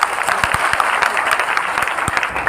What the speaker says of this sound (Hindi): दोनों हाथ पकड़ के ताली मार दीजिए।